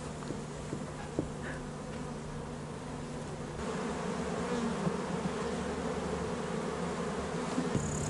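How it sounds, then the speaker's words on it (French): Steady insect buzzing fills the background, a dense hum of bees that thickens slightly halfway through and carries on without pause. "L'abeille"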